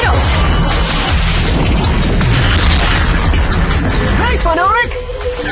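Torpedoes explode in the animated series Code Lyoko, a loud dense rumbling crash with whooshing debris, followed by brief sweeping synthetic tones near the end.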